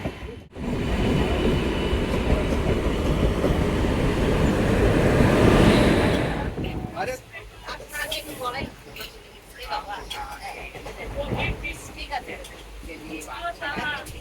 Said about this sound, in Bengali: চলো ফাইনালি ট্রেন ঢুকলো